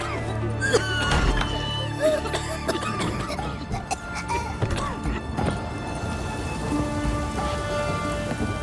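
Steady rain from The Witcher 3 falls in a dense, continuous patter across the whole stretch, with a low rumble that may be distant thunder and scattered game sound effects layered over it.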